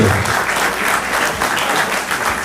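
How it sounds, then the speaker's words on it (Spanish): A crowd at a rock anniversary event in Villa Ángela applauds loudly and continuously, dense clapping mixed with faint cheering that stays close throughout. "Fuerte el aplauso, fuerte, fuerte."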